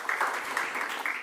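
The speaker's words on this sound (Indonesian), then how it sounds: "Tepuk tangan buat Brandon." Audience applause for guitarist Brandon at a youth church service, a steady wash of many hands clapping together at moderate volume with no voices over it.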